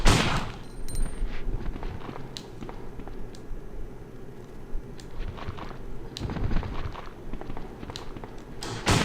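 Gunfire in the video game Resident Evil 2, a burst of sharp, loud shots at the start followed by scattered thuds and another cluster of shots near the middle, set over a steady low rumbling game ambience.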